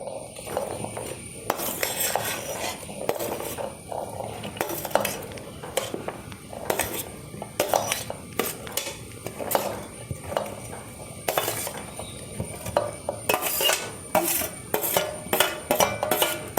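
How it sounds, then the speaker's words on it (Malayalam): A spoon stirs chillies, garlic, ginger, onion and tomato in a pan, giving repeated close metallic clinks and scrapes in an irregular rhythm over a faint background, with no talking. "പച്ചമുളക് വെളുത്തുള്ളി ഇഞ്ചി സവാള തക്കാളി ഇതെല്ലാം ഇട്ട് കൊടുക്കാം"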